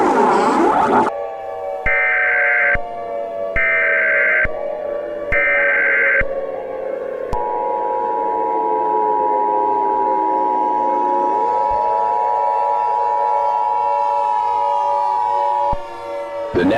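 A loud emergency alert tornado warning siren for Los Angeles, with three short attention tones, then long wailing and sliding electronic siren tones with echo that hold steady for about ten seconds before a final burst, with no voices.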